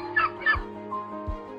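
Domestic hens clucking close by, a few short throaty calls in quick succession followed by softer low notes, alone without talk.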